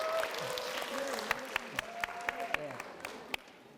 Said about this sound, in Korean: 박수를 쳐서 감사드립니다.